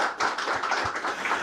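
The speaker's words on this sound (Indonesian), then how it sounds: "Kita berikan tepuk tangan buat Pak Hariko." Brief, fairly quiet clapping from a small audience at an Indonesian government talk on food self-sufficiency, a few hands patting unevenly for about a second and a half.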